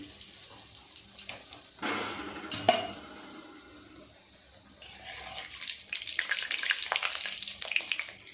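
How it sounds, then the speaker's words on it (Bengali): Fish chops frying in hot oil over a medium flame, a steady sizzle broken by louder bursts of crackling and spattering as the chops are turned. "খুব ভালো করে উল্টে পাল্টে চপগুলোকে ভাজা করে নেব।"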